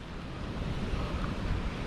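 Steady wash of ocean surf on an open Indian Ocean beach near Jaffna, Sri Lanka, a continuous broadband roar with light wind, no voices.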